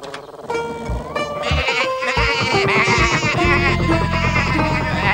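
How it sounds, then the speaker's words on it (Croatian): Sheep bleat repeatedly in an animated children's cartoon, the calls sitting over loud, continuous background music throughout. "Baš kad su ovce došle pred njih."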